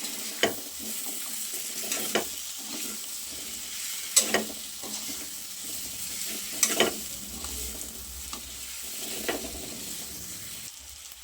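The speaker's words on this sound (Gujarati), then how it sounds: "મિક્સ કરી દઈએ" Potatoes fry in spiced oil while being stirred, a steady sizzle broken by repeated sharp spoon scrapes against the pan at irregular intervals, close and alone.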